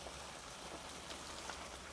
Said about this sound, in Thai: ฝนตกแล้วก็ลม